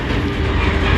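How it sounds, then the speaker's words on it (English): A big train rolls across a tiny bridge only about eight feet overhead, a loud, close, roaring rumble with rapid clickety-clack of wheels on the rails, filling the moment with no talk. "it's very nerve-wracking sleeping underneath a big old train"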